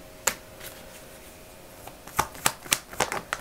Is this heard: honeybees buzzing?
no